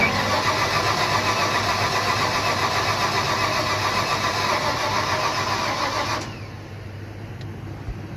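A car engine cranks steadily with the starter turning it over, an even rapid churning that runs for about six seconds without catching, as it has no fuel, then drops to a quieter background.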